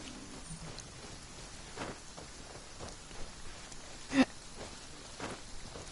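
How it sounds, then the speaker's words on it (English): Steady rainfall in the Genshin Impact game world, a quiet, even hiss of drops across the whole stretch with a few faint, soft patters standing out, and no talking over it. "It is raining."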